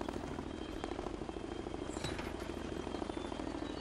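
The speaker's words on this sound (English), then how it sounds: "Come on, helicopter. Don't have all day." Steady, close helicopter rotor thrum with a constant engine drone in the video game Zoo Tycoon on Xbox One, unbroken and fairly loud throughout, no talking.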